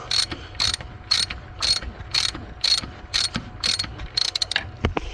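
A wrench ratchets a nut onto an exhaust manifold stud with a series of quick, crisp clicking bursts in a steady rhythm, close and fairly loud, with no voices.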